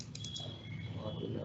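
Quiet clicking of a computer keyboard comes through as a MySQL query is typed. The soft, steady keystrokes sit close and low under faint background hum.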